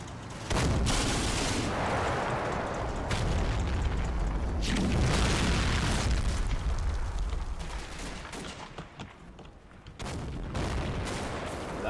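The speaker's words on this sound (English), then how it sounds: "That's the 150mm gun hitting stuff up." A 150mm gun in a video game fires and its shells strike targets in a long run of loud, overlapping booms and blasts, with heavy rumbling impacts rolling on and on, a brief lull, then more firing.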